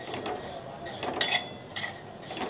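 Peas being dry-roasted and stirred in a hot kadhai give a light scraping and clinking of a metal spoon against the pan, several soft strokes with one sharper clink, close and fairly quiet.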